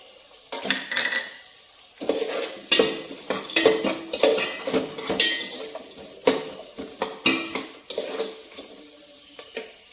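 Cashew nuts frying in a pan, heard as repeated clinks and scrapes of a utensil stirring against the pan over a soft sizzle, close and steady throughout.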